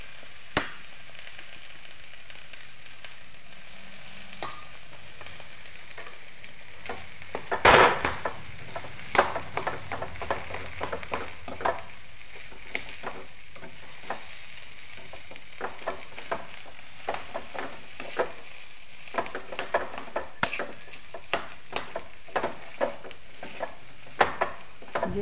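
Spiced potato masala for batata vada frying and sizzling steadily in a pan, with a spoon scraping and stirring through it in intermittent strokes; close, continuous and without talk.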